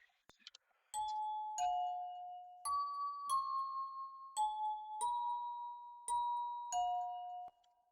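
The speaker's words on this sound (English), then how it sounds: "another secret Pluggnb tip is that you want to stay away from these bells." Bell tones in a Pluggnb beat play a simple melody of about eleven clear, bright struck notes, each ringing and sustaining before the next, with a soft low thump under some strikes and a short tinkle at the start.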